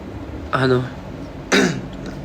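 Two short, raspy coughs or throat-clearing bursts, near and moderately loud, a second apart over faint background noise.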